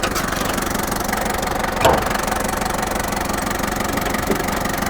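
A Toyota Land Cruiser BJ40 diesel engine runs at a steady, close-up idle with an even mechanical clatter, one brief louder knock partway through and no talking.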